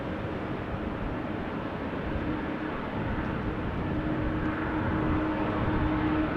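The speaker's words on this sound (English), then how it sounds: "Kuwait is touching down on runway 22." A Kuwait airliner touches down on runway 22 at Amsterdam Schiphol in wet, windy weather, heard as a steady, broad, distant roar that swells slightly toward the end, with no voices.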